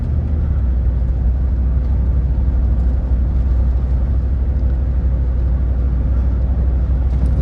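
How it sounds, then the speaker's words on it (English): Cadillac Escalade, recently converted to two-wheel drive, on a real drive, with a loud, steady low engine rumble and road drone filling the cabin. No talking is heard. "That was a pretty solid shift into 4th gear."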